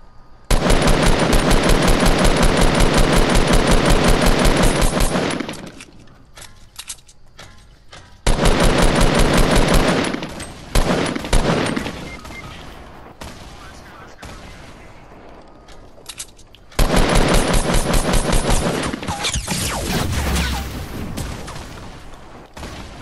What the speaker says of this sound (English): Oh, well, I'm shooting.